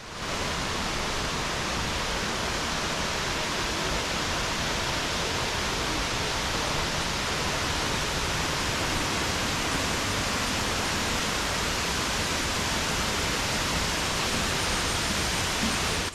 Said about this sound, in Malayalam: ഓരോ പടി ഇറങ്ങുമ്പോഴും വെള്ളച്ചാട്ടത്തിന്റെ നേർത്ത ശബ്ദം കൂടുതൽ ഉച്ചത്തിലാകുന്നു